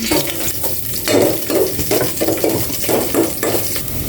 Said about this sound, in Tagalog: Lutuin ko na po itong labong. Naggisa na ako ng bawang.